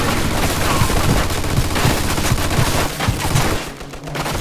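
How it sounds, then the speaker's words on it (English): Sustained machine gun fire in a Mafia II shootout, a dense, loud, continuous rattle of rapid shots that thins briefly near the end. "Looks like we found the machine gun!"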